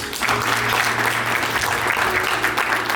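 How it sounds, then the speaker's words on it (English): Audience applause at a diaspora political convention and fundraising dinner, honoring Omoyele Sowore; loud, steady, sustained clapping from a large crowd across the whole stretch. "I think that deserves a round of applause."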